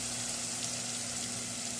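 Chopped onions sautéing in a pan for a green chicken karahi, a steady close sizzle with a soft, even crackle and no voices.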